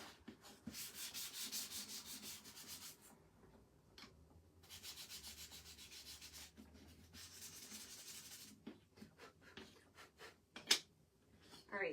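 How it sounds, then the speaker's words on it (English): Hand sanding of a wooden watering can cutout for a spring sign insert: two long bursts of steady back-and-forth sandpaper scraping close by, followed by a few short taps and clicks, with no talking. "I don't know if our watering can needs to be sanded, but let's just give it a gentle"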